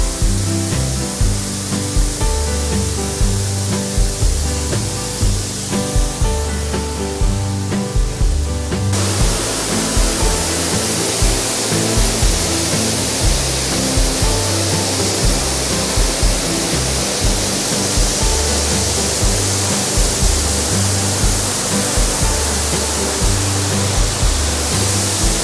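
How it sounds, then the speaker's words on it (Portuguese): A waterfall near the Grutão dos Índios in Santa Lúcia do Piauí, Brazil, pours with a loud, constant roar that stays dense and close throughout. "A queda d'água ali."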